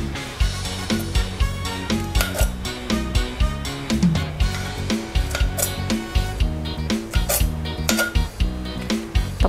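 Long beans go into a mortar for a Thai squid salad, with steady, rhythmic knocks and clinks of pestle and utensils against the bowl and faint tonal sound underneath.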